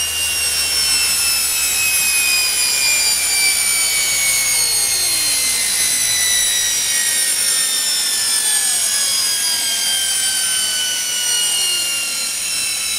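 A washing machine motor under PWM speed control whines loudly and continuously, with several high tonal pitches sliding steadily downward as its speed changes, close and alone.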